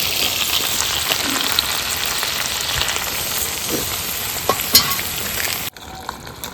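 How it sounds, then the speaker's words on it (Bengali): Loud, close sizzling of a crab curry as water hits the hot pan, a dense continuous hiss with a few stirring knocks, cutting off abruptly near the end. "হালকা একটু জল দিয়ে দিচ্ছি সেদ্ধটা তাহলে ভালো হবে"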